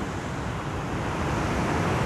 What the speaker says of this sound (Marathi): समुद्राच्या लाटा येतात.